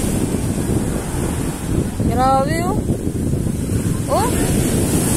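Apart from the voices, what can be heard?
strong ocean waves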